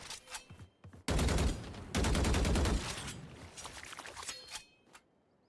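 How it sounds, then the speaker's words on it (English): Automatic rifle fire in the tactical shooter Valorant, a Jett player's weapon cracking out two dense sustained bursts at close range, followed by scattered shots and game effects fading away. "there's not going to be a single reason for the enemies to rotate if they just see a Jett shooting a few bullets"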